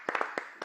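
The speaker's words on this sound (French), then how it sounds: "nous on a envie de l'applaudir quand même" A handful of quick, sharp hand claps from an audience, about six scattered hits bunched within under a second, fairly close.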